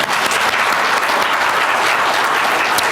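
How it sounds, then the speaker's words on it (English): Steady, loud round of audience applause for event panelists, a dense wash of clapping held throughout with no voices over it. "let's give our panelists one more round of applause"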